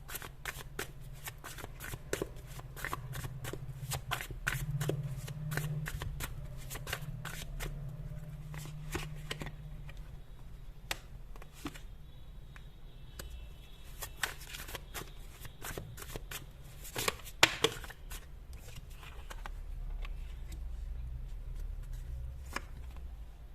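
Tarot cards shuffled by hand in a steady run of soft riffling and slapping for about twenty seconds, close and clear, with no talk and a faint low hum underneath.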